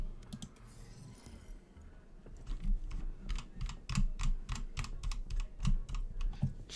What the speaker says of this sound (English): Stop typing something.